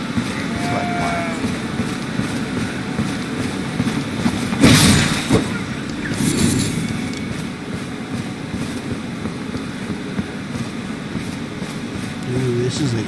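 Sheep in the video game Elden Ring bleat in low, drawn-out calls, loud and close over a steady game background, with a couple of heavier thumps partway through.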